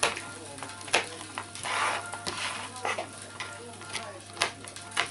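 A knife chops pan-toasted walnuts finely on a board for a honey cake, giving close, irregular sharp taps and clicks with brief pauses between strokes over a low steady hum.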